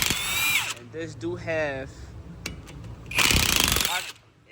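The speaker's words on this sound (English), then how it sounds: "That's what I'm using, an impact and not a wrench" An impact wrench rattles loudly in two bursts, removing Loctite-coated hub bolts on a Ford Transit during a brake job, with someone talking between and over the bursts.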